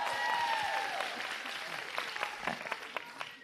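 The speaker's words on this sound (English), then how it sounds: "Oh yeah, you can clap for librarians." A crowd at a Georgia campaign rally claps for librarians, loud at first and then thinning into scattered individual claps.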